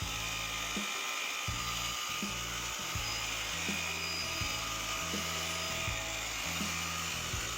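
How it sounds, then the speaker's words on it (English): An electric polisher with a foam pad buffs swirl marks from the paint of a Chevy SS, a steady high whine with a rhythmic pulsing hum as the pad works across the panel. "I'm going to hit it with a foam pad now and get any of the swirl marks or anything like that out of it."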